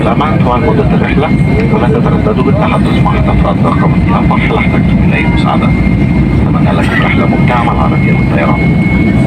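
Steady, loud in-flight cabin roar of an Air Arabia airliner, a broadband engine and airflow drone filling the whole stretch, with people talking over it.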